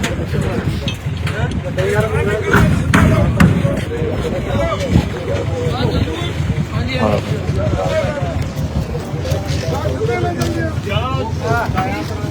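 Motorboat engine running on flood waters in a flood-affected area, a steady low drone with wind buffeting the microphone and people talking over it throughout.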